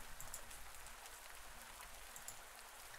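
Rain falls in the farming video game Pumpkin Days, a faint, steady hiss of drops with no other sounds over it.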